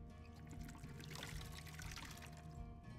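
A refill of water pours in Skyrim, a soft continuous splash and trickle that stays steady for a few seconds, faint and alone.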